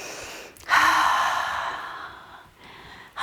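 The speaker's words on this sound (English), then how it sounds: "Deep breath in." A deep, slow breath drawn in during a live Sun Salutation yoga class: one long, breathy inhale rising sharply then fading over about two seconds, close to the microphone, followed by a brief second breath at the end, with no talking.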